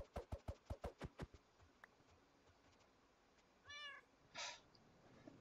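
A Minecraft cat gives a rapid run of about eight short, even meows, then two more drawn-out calls after a pause, all fairly faint with no speech.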